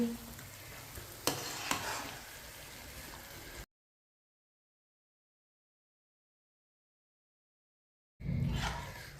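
Aloo gobhi curry is stirred in a pan with the stove off, giving soft scraping and a gentle residual sizzle, broken by a long stretch of silence before the stirring resumes briefly.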